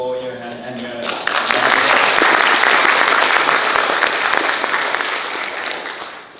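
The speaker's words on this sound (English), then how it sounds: "Another round of applause for Johan and Jonas." An audience at a renewable energy forum in Mariestad breaks into sustained applause for two speakers, swelling quickly after a brief moment of low murmuring and holding full and loud for several seconds before tapering off.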